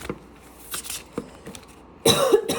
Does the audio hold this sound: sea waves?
no